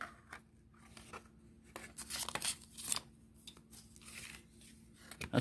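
A sharp Cold Steel Golden Eye knife slices through thin cardboard envelope stock in a series of close, quiet scraping and tearing strokes, with short pauses between cuts.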